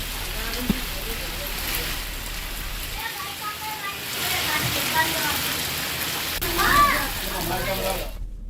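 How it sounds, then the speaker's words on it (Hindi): Heavy rain driven by strong wind during a monsoon downpour, a dense steady roar of falling water with gusty swells that continues unbroken throughout. "तेज हवा के साथ हो रही जोरदार बारिश"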